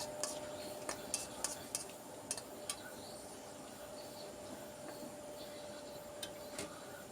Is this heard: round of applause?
no